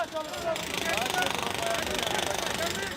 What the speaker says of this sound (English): desperately, they drill their way down.